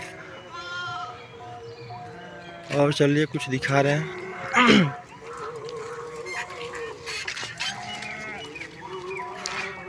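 Sheep kept by a village herder bleat repeatedly outdoors, several wavering calls at moderate distance, while someone talks over them.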